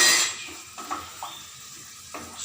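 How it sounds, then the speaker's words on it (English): Spices, including hing, being fried in a pan for poha, giving a soft steady sizzle with a few light clinks and stirring scrapes of utensils against the pan. "I'm frying it."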